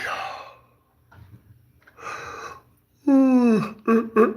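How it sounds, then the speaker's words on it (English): A person yawns aloud: a couple of soft breathy exhales, then a long drawn-out voiced yawn sliding downward in pitch, followed by a few short vocal bursts, close and fairly loud. "Sorry for yawning."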